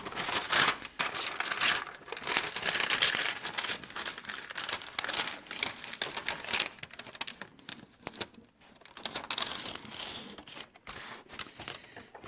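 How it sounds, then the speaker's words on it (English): Paper crinkles and crackles as it is folded back along a stitching line during paper-pieced quilt block work, a steady run of close, rustling creases and crisp snaps with no talk. "you're going to fold your paper back along the line between 2 and 3"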